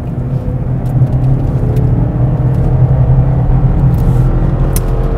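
A Mercedes-Benz E-Class powers out of a deep corner on a closed track, its engine a loud, steady rumbling drone that swells slightly as it pulls, heard close with no voices.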